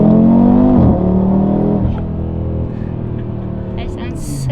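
An Audi RS3 with a louder aftermarket exhaust is floored, a deep loud engine roar that rises briefly then settles into a sustained drone and fades, with someone speaking at the end.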